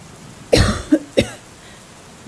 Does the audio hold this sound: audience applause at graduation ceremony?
no